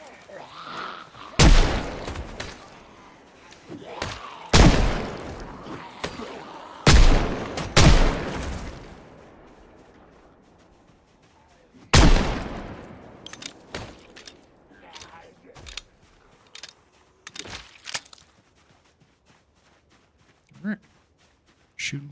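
Gunshots in Project Zomboid, a zombie survival game: several sharp, loud reports spaced irregularly in the first half, then scattered quieter impacts and clicks, with talk in between.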